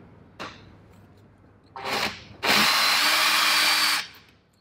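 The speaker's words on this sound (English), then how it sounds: "I'm not worrying about having oil and a slow speed drill and all that kind of thing." A power drill bores into soft aluminium during a hydrofoil build, running in three bursts: a short blip, a brief spin-up, then a longer loud whining grind of about a second and a half before stopping.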